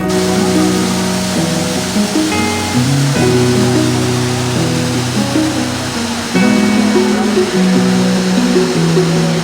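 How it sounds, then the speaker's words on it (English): Steady roaring rush of falling water fills the whole stretch, loud and constant, with faint tonal hum layered underneath. "You're gonna see a waterfall."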